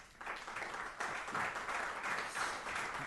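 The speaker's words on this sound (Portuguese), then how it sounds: "nada melhor do que aplaudirmos aqui a Margarida Prates" An auditorium audience at a classical concert applauds to welcome a pianist, a dense, even clatter of many hands building after a brief start and holding steady at a fairly close, full level.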